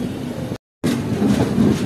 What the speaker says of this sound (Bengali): পাঁশকুড়া মেন লাইনে আমাদের ট্রেন ঢুকছে এখন মেচেদার দিকে